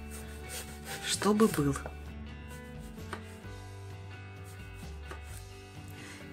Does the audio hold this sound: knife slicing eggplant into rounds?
yes